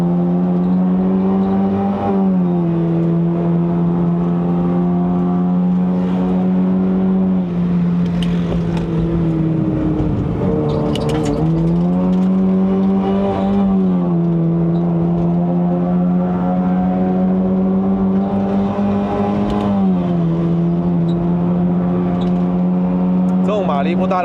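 A 1.5-litre Honda City Hatchback GN5 climbing a mountain road in Malaysia, its engine droning steadily from inside the cabin and rising and falling as the driver works through the gears, with someone talking over it.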